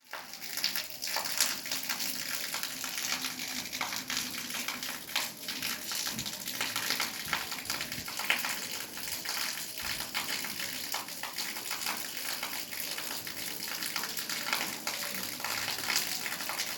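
Water gushes continuously from a hose onto clothes being washed, with a steady, splashing rush, holding an even level from start to finish.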